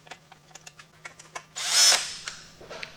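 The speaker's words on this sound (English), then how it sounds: "I'm going to use my drill to finish removing them." Power drill spinning out bolts on the water pump of a Mercury 60 HP Big Foot outboard, a few short clicks and taps before one loud burst of drilling that tapers off, close up, with no talk.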